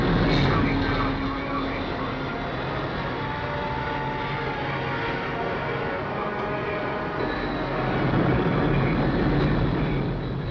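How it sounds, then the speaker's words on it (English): RAF aircraft pass over a weather ship at sea, a dense, loud, steady engine roar and rumble filling the whole stretch with slight swells in level. "The RAF planes come out from Britain"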